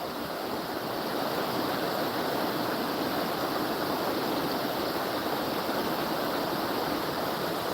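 Salmon River in Pulaski, New York, flowing steadily with a constant broad rush of moving water, close and even, no voices over it.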